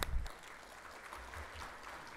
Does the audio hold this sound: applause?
yes